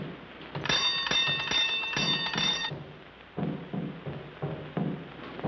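A door bell rung at a building's entrance, giving a bright, chiming ring of rapid repeated strokes for about two seconds, followed by scattered knocks, clatter and thumps.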